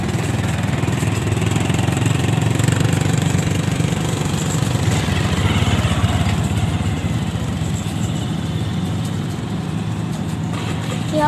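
A hydraulic pile driving machine driving concrete piles for a new bridge runs with a loud, steady engine drone and rumble throughout, with no clear speech.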